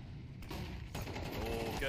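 Rapid bursts of rifle fire from a Counter-Strike 2 match, loud and close, with a sharper onset near the one-second mark and a commentator's voice running over the shots.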